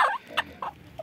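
Poultry calls inside a henhouse where hens are moulting, a few short clucking or gobbling bursts spaced about a quarter second apart, near and moderately loud with no talk.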